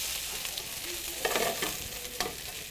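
Hash browns sizzle steadily in a pan, a constant crackling hiss broken by a few brief scraping stirs near the close.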